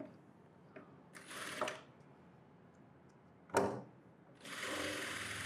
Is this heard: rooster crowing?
no